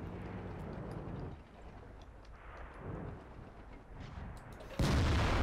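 A tank cannon firing in World of Tanks, a sudden loud boom at the end following a stretch of rumbling battle ambience, with a T110E5 among the tanks in play.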